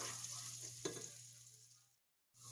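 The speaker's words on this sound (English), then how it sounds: "just sauteing some onion and some Crisco cooking oil" Onion sautés in Crisco cooking oil in a heated pot before a roast goes in, a faint, steady sizzle with a low hum beneath and one brief clink, cutting out abruptly near the end.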